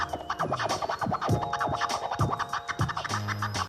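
A DJ scratches a record on a turntable with a mixer, producing dense, loud, rapid back-and-forth scratch strokes in quick rhythmic bursts, with no talking over it.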